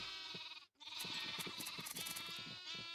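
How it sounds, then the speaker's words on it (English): Sheep in Minecraft bleat repeatedly in short, wavering cries, close and fairly quiet, with a brief gap early on and no talk. "it makes a sheep, but it's not a energetic sheep"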